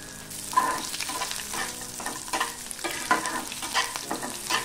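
Green chilies and garlic cloves fry in a pan with a loud, continuous sizzle, broken by repeated spatula strokes and stirring scrapes.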